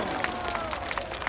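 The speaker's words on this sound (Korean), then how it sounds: "박수 쳐요 빨리 박수 쳐" An audience at a pastor's patriotic rally claps in a dense, steady patter of many hands, heard alone at moderate loudness without a clear start or finish.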